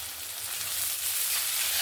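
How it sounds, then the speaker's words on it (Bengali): Chopped onion and green chillies frying in a pan with oil, a steady close sizzle that holds evenly throughout. "পেঁয়াজটাকে ভালো করে লাল লাল করে ভেজে নেব"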